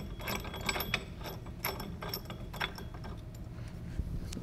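An 18 mm nut is tightened on a coilover for a VW MK4, giving a dense run of close ratcheting clicks and metallic mechanism noise throughout.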